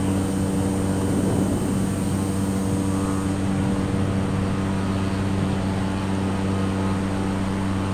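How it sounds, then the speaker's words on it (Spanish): A fighter jet passing overhead near a bay gives a steady, loud, broad engine roar with strong low tonal hum, sustained throughout without pause. "Es un jet caza que anda ahí."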